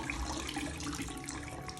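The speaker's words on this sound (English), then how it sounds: "I'm going to start draining the water out" Water drains out of a sink basin after a wig is washed, a close, steady gurgling rush that runs on without pause.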